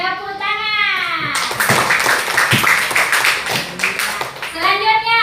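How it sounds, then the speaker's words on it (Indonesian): Applause for a student in a classroom: a burst of hand claps from a group of children starts about a second and a half in and carries on for several seconds, with a woman teacher's voice and children's voices at the start and end. "Oke, tepuk tangan."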